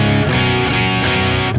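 A thick, buzzing electric guitar through a Stone Deaf PDF-1X fuzz pedal plays a short chordal phrase, loud and saturated, with no voices.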